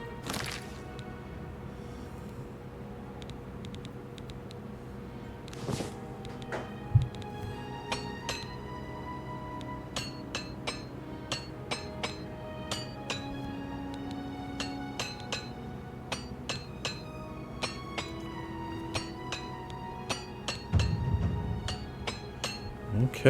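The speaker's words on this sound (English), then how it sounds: "repair hammer" A repair hammer strikes armor in Oblivion Remastered, making a long series of sharp metallic clinks at an uneven, fairly quick rhythm, moderately loud over a quiet game backdrop.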